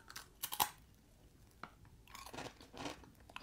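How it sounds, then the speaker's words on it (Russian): Cheap Fix Price potato chips being crunched and chewed close up, several sharp crunchy bites followed by softer chewing, with no talking. "Хрустит круто. Это очень похоже на лейс со сметаной и зеленью."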